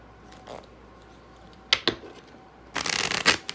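Oracle cards being shuffled, a few soft flicks and riffles followed by a louder, denser burst of shuffling, close and clear against a quiet background.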